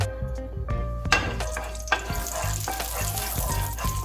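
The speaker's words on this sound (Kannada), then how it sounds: "ಫಸ್ಟು ನಾನು ಆಯಿಲ್ ಹಾಕ್ಕೊಳ್ತಾ ಇದ್ದೀನಿ. ಚಕ್ಕೆ, ಲವಂಗ, ಏಲಕ್ಕಿ ಇವು ಹಾಕೋಣ." Cinnamon, cloves and cardamom crackle and sizzle in hot oil in a pan for a dhaba-style Hyderabadi paneer masala, a steady close frying hiss with a few sharp clinks of a utensil against the pan.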